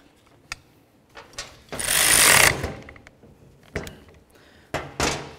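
Bolts being snugged up on the wiper motor of a 2004-07 Ford F150, heard as a burst of ratchet clicking followed by several sharp metallic knocks and taps from tools close by, with no talking.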